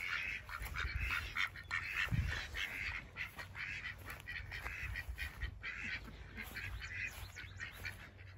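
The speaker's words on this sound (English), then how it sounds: "We have ducks, several different kinds." A flock of ducks quacks steadily at a moderate distance, calls overlapping in a continuous outdoor chatter.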